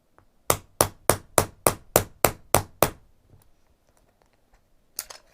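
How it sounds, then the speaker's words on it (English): Nine sharp, evenly spaced hammer strikes ring out close by in quick rhythm, setting a snap fastener into place, followed by quiet and one last tap. "I'm going to hammer that into place"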